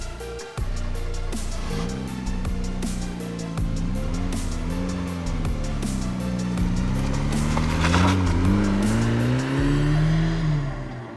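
A big-turbo 1995 M Edition car pulls away and drives, the engine note rising and falling steadily through revs and gear changes, loud and close from inside the cabin with no talking.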